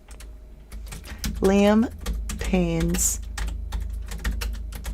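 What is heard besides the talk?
typing on a computer keyboard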